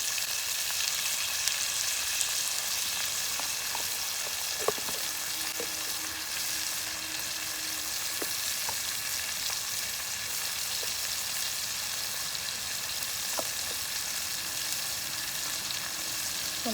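Turmeric powder and spices sizzle steadily in hot oil in a frying pan, a continuous close hiss with occasional light clicks of stirring, no talk.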